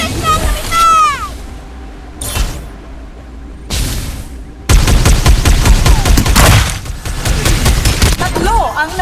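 Gunfire in the Farlight 84 battle royale video game, loud booming shots in bursts with short gaps, then a sustained dense barrage of rapid fire, with a voice speaking over parts of it.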